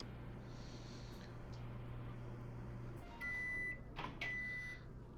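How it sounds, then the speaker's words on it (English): Microwave oven in a VR video game heating bread, tomato sauce and cheese, a low steady hum running for about three seconds, then bright electronic beeps ringing out clearly near the end. "Combining the bread with some cheese in the microwave should fulfill all material requirements."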